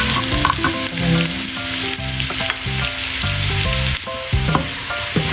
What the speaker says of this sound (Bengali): এই যে রসুনগুলো লাল লাল করে দেখুন গোল্ডেন কালার করে ভেজে নিচ্ছি।